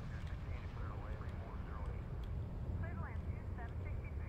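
A fixed-wing airliner takes off in an airport-management game, a steady engine roar under background chatter and speech-like tones, with no single sharp event.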